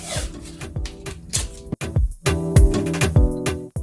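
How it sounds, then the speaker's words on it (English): Steady scraping and rubbing on a decor transfer laid over a wooden dresser, with repeated light strokes, squeaky tonal rasps and brief pauses, close and moderately loud. "it's not hard pressure, it's just constant scraping."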